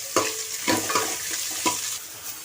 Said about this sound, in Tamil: வெங்காயத்தை நல்லா வதக்கலாம்